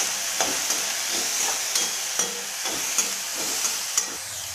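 Eggplant sautéing in hot oil in a pan for sambar: a steady soft sizzle with several light spoon-stirring clicks spaced across the sound, close and moderately quiet, with no voices.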